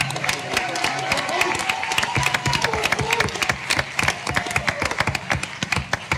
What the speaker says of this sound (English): Will you please give him a round of applause?